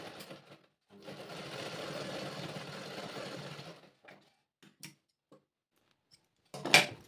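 Sewing machine stitching a narrow folded hem on a petticoat: one steady, close whirring run of about three seconds, then a few faint clicks and handling taps, and a brief sharp burst near the end.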